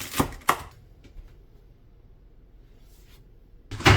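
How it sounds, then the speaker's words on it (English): A knife chops Swiss chard stems into small pieces on a cutting board, a few sharp close cuts at the start and another burst at the end, with a quiet pause between. "Cut the stem into smaller pieces like this."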